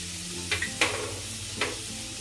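Moong dal with spinach sizzles steadily while frying in a pan, with a few brief scraping stirs of a spoon close by and no talking.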